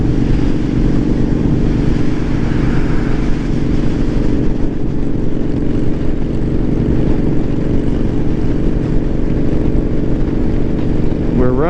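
Kawasaki and Boulevard motorcycles cruise down a road with a loud, continuous engine drone and wind rush heard from the rider's position, staying steady throughout.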